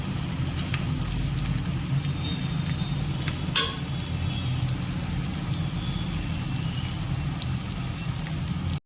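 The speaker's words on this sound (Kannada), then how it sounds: "ಒಂದು ಸ್ವಲ್ಪ ಕಂದು ಬಣ್ಣಕ್ಕೆ ತಿರ್ಗೊಂಬಿಟ್ಟ ಒಂದು ಸ್ವಲ್ಪ ಫ್ರೈ ಮಾಡ್ಕೋಬೇಕು ಇದನ್ನು." Food fries steadily in a pan until lightly browned, a continuous, even sizzle throughout with a single brief utensil clink partway through.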